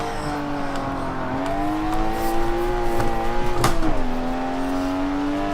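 Engine note from a car in Forza Motorsport 7 played on a Logitech G920 wheel, a steady revving tone that rises and dips as the car slides into oversteer and recovers, with a brief tyre scrub near the end.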